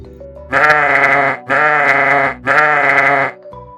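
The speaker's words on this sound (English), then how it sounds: "Here is a sheep." A sheep gives three long, loud bleats in close succession, each separated by a brief pause.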